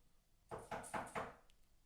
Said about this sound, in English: Are you gonna get the door?